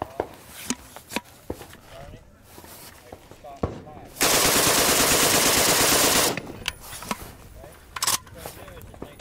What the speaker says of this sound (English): That's my first time ever shooting one of these.